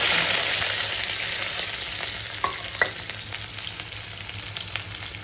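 Garlic and onion fry in hot oil with a loud, continuous close sizzle, joined by a few soft scrapes and taps of a spatula stirring in the pan.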